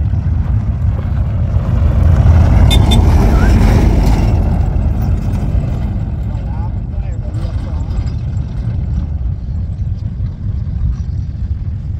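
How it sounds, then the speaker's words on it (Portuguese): A truck rumbles past on a rural road, a loud low engine drone that swells and then fades, with people talking over it. "Olha o caminhão."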